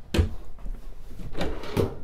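A deep pots and pans drawer in the kitchen of a 2022 Grand Design Imagine XLS 23BHE travel trailer slides open and shut, giving two or three close, solid thumps and rolling knocks.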